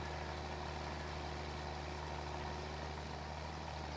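A small tractor in Farming Simulator 22 idles while hitched to a heavy chopper box, giving a steady, continuous low engine drone, alone with no talk.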